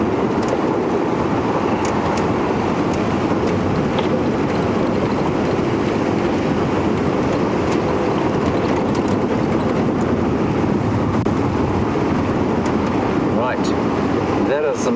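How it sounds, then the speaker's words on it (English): Strong wind gusts buffet the microphone on an open safari game drive at sunset, a loud, steady roaring rumble that fills the whole stretch without letting up. "A large gust of wind has taken my ears."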